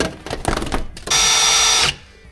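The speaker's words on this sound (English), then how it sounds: "We're drilling." A power drill bores out stripped, rounded-off strip screws on a Squarebody Chevy Suburban, a close, steady whine lasting under a second after some knocking and handling noises, then stopping abruptly.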